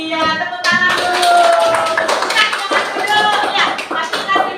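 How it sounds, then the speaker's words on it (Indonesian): A primary school class claps hands together, a burst of lively applause over several seconds with a teacher's voice speaking over it. "Iya, tepuk tangan dulu"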